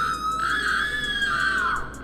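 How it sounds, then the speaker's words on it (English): A loud, sustained scream in an animated horror story, one long high shriek with a wavering pitch that holds steady for about two seconds before trailing off. "all of a sudden my date screamed"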